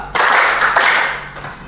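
A group of people clap together in a practiced clapping routine during a teacher training session, a few sharp, loud claps in quick succession with short pauses between.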